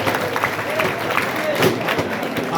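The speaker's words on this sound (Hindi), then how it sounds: "एक बार जोरदार तालियों से स्वागत भाई बच्चियों का" Loud applause welcoming girl students at a motivational gathering, a steady wash of crowd clapping with murmuring voices and babble underneath throughout.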